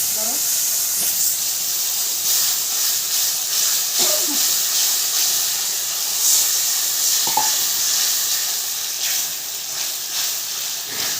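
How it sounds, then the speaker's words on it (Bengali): Whole spices such as bay leaf, cinnamon and green chillies sizzle and hiss steadily in hot oil in a kadai, with a few brief stirring scrapes and clinks throughout; a voice speaks faintly. "এখন মশলাগুলো কড়াইতে দিয়ে দিতে হবে"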